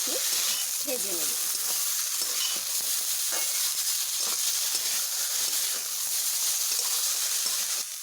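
Chopped kochur loti (taro stolons) fry with salt in hot oil, a steady, close, hissing sizzle that runs throughout with a few faint stirring scrapes.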